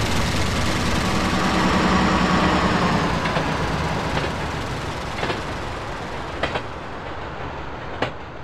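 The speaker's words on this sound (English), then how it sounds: "There is a Local 4 train to Vermont. Approaching the station, please stand away from the platform edge." Subway train pulling into a station in GTA San Andreas, a steady loud rumble of rolling wheels and engine easing off as it arrives, with a few sharp clanks near the end.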